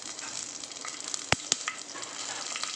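Whole cloves, pepper, cardamom and fennel seeds fry in hot oil for tomato kurma, a soft close crackle with a couple of sharp pops, quiet and without talk.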